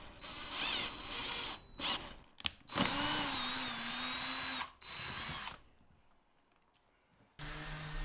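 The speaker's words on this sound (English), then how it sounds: "We then screwed in the insert as before." A power drill drives a threaded insert into plywood for a wooden Pikler climbing triangle, whining loudly and close in several bursts with short pauses and a ratcheting clutch chatter between runs.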